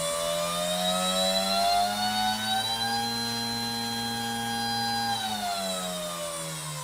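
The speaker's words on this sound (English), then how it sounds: "It's using an 880 kV motor spinning 11 by 6 inches propeller." A model airplane's 880 kV electric motor spins an 11x6 inch propeller, making a steady, loud whirring drone with tonal whine that rises slightly in pitch midway and then eases down, with no talking.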